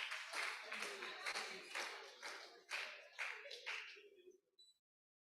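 Audience applause for a woman at a health sector governance event, a burst of clapping from a crowd that rises and fades over several seconds before trailing off into silence.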